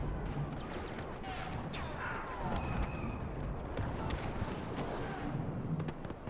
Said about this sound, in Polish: Tu są wybuchy jakieś.